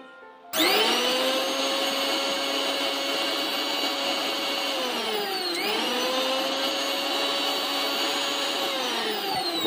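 A repaired electric mixer grinder (mixie), which had been catching fire when switched on, kicks on after a short quiet moment into a loud, steady high-pitched motor whine that dips briefly midway, then keeps running evenly with no talk.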